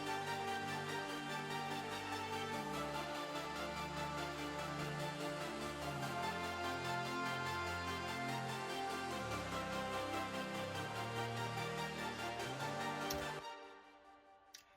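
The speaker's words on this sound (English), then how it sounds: "If we listen to only the synth group, here it sounds like this." Layered synth group from a symphonic metal production, dense sustained chords with pulsing rhythmic stabs playing continuously and alone before cutting off near the end.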